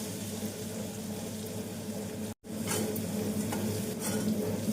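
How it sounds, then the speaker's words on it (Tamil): Steady sizzling of onions and garlic frying in a pan, with a brief cut to silence midway and stirring noises after. "நாம் பூண்டு சேர்த்து வெங்காயத்துடன் நன்றாக வதங்கவும்"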